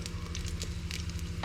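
Hot oil in a pot sizzles and crackles steadily around a half-cut onion, a continuous close frying hiss with faint clicks.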